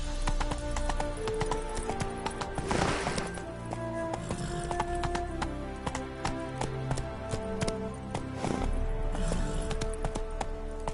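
Horse hooves clip-clopping in The Witcher 3 video game, a steady close trotting rhythm with occasional snorts over a low ambient game backdrop.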